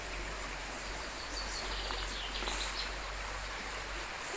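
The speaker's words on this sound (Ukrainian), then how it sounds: "З поля течуть такі бурхливі потоки" Steady rushing muddy rainwater runs off a field without pause, a broad continuous outdoor wash with faint birds in the background.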